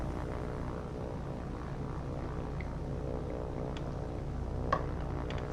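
Propeller aircraft engines in a Pacific air-combat war game give a low, steady droning hum with faint harmonic whine, fairly quiet and continuous, with a few brief clicks near the end.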